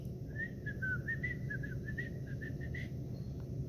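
A person whistles a short wandering tune while waiting, a clear thin melody of quick notes over a steady low background hum.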